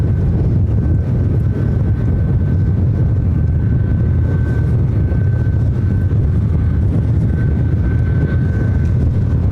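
Jet airliner engine noise at Ontario airport, likely an A320 on approach to runway 26 right: a loud, steady broadband roar with a faint whine held throughout, no voices.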